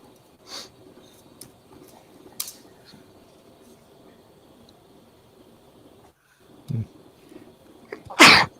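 A single loud, close sneeze bursts out at the end, after a quiet stretch of faint room noise and small scattered clicks.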